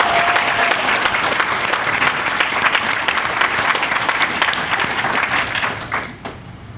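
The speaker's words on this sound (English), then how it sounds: "Clap loud enough that they can hear you in the group room." Loud sustained applause from an audience at a recovery center ribbon-cutting event, a dense rush of many clapping hands that holds steady and then tapers off in the last second.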